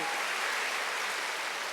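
Sustained applause from a congregation at a Sunday church service, thick and continuous clapping that holds steady at a moderate, close level throughout.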